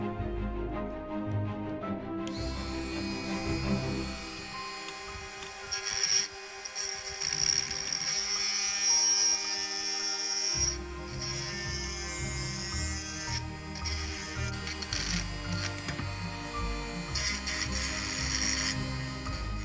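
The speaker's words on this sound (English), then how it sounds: "next I'll tidy them up a bit with one of these grinding attachments" A small rotary tool with a grinding attachment whirs and rasps steadily against a 1/6 scale Armortek Tiger 1 model's rear deck for about twenty seconds, close up. The pitch and pressure shift now and then, with no voices.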